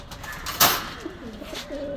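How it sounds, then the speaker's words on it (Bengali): A red checker racer pigeon in a pigeon shop gives a couple of low cooing calls after a brief sharp rustle, with steady shop noise behind. "এক জোড়া রেড চেকারের কবুতর আছে, রেসার কবুতর"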